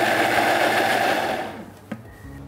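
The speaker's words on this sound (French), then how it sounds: "Donc on mixe jusqu'à obtenir une crème noire, lisse." Blender whirring as it purées a black cream of mussel juice with white wine and shallot, a steady loud motor drone that slows and winds down near the end, followed by a light knock.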